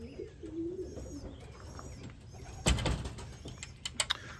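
Late-bred racing pigeons coo softly in a loft, faint low calls mixed with light chirps, wing flutters and a few sharp mechanical clicks and knocks.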